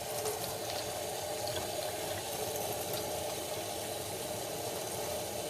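Running water splashes continuously and steadily as Shetland wool is rinsed, a faint, even gush with no pauses.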